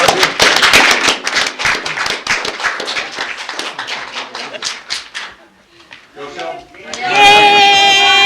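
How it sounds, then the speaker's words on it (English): A small group claps at a Shelton city commission meeting, a dense burst of hand claps that thins out and fades over several seconds before a brief tonal sound at the end. "Clap for that one, too."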